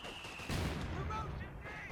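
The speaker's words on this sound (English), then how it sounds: "Secondary mortar tries to drop rounds on top of them" Mortar and machine gun fire in the World War II strategy game Company of Heroes 2, a sudden booming burst of gunfire and blasts rolling on over a low battle din.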